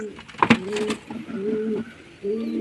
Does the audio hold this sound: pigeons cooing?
yes